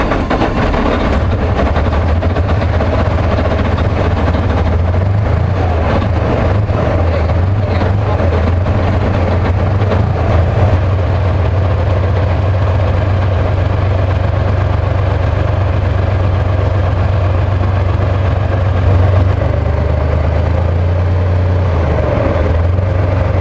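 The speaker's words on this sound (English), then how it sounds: "This 581 horsepower Vi-12 engine powers the main battle tank with relentless force." A Soviet-era main battle tank's 581-horsepower V-12 diesel engine idles with a steady, loud low-frequency rumble that holds for the full span, with no talk over it.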